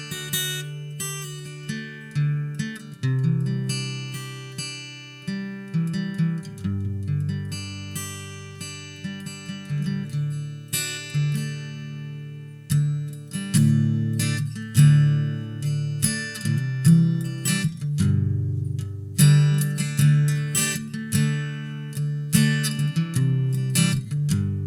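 Fingerpicked Batson acoustic guitar run through Two Notes Opus acoustic impulse responses, with warm low bass notes under bright plucked treble, steady and close, no voices.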